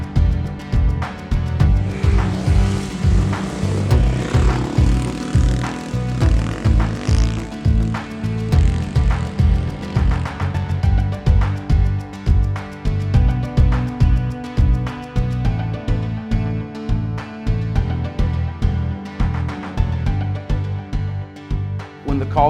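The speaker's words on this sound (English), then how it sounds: "how about we bring an F800 to the sand dunes with a paddle tire?" A BMW F800GS motorcycle fitted with a paddle tire rides through sand dunes, its engine revving in repeated surges and fades over a long stretch and sounding moderately near without any speech.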